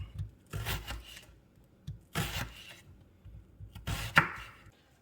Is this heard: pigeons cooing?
no